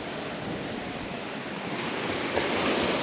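Waves wash onto the beach at Taiohae on Nuku Hiva, a steady close roar of surf that swells slightly toward the end, with no voices.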